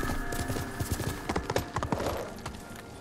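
Horse hooves clip-clop across the ground in the video game Ghost of Tsushima, a quick irregular run of close, moderately loud hoofbeats over a steady soft background.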